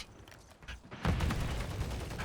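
Rapid bursts of gunfire in Call of Duty MW3, a muffled rattle that swells louder halfway through and keeps going as a dense, continuous volley.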